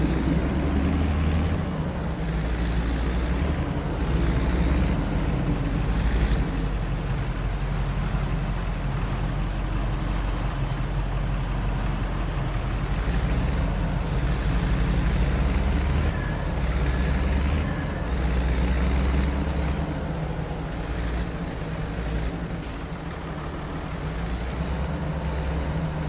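A tractor drives in the Farming Simulator 22 video game, a steady low engine drone with rumbling that holds fairly even for the whole stretch, without voices over it.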